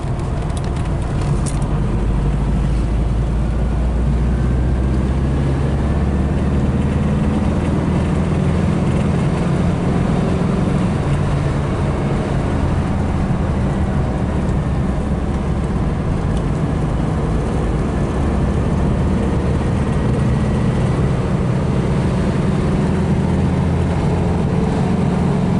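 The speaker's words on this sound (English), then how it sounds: "And after all, we had a chance to test fourth gear." A VW Type 3 car driven fast in fourth gear on a race track, heard as a steady, loud engine drone with road and wind roar that holds constant throughout, with no talking.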